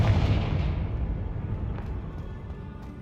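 A Confringo fire spell explodes in Hogwarts Legacy, a heavy booming blast that starts loud and rumbles away slowly across several seconds.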